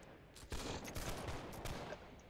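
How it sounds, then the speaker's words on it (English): A musket line fires a volley in the Napoleonic-era battle game Holdfast: Nations at War, heard as a few overlapping booming cracks over constant battlefield noise, fairly distant and without any talk. "I want to shoot that line out in the open. And fire."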